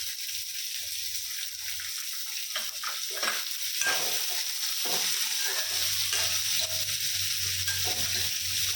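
Onions sizzle steadily in a hot pan, with occasional stirring scrapes and soft clinks, close and continuous.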